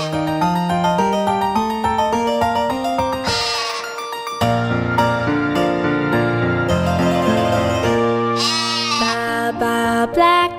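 A children's animal song about a black sheep, sung over a bright instrumental backing, with bleating 'baa' sounds from a voice imitating a sheep.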